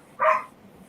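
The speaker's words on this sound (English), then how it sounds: "I gotta go deal with this dog." A dog barks once indoors during a live stream, a single short bark fairly close that fades quickly into quiet.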